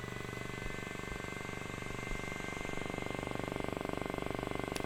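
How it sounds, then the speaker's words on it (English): A MiniTEM electron microscope's turbomolecular pump spinning up makes a steady mechanical whir with a fine rapid pulsing, humming continuously at moderate volume, gradually building in intensity, with no talking. "the turbomolecular pump will now start. A progress bar shows the status of the pump spinning up"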